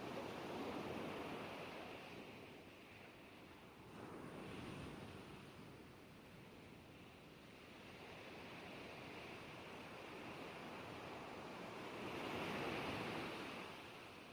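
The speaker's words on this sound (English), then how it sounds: "Waves then inundate coastal areas." Waves surge and wash onto a coastline, a broad roaring rush that swells and ebbs in slow waves of loudness with wind blowing through it. The sound is moderately distant and no voices are heard.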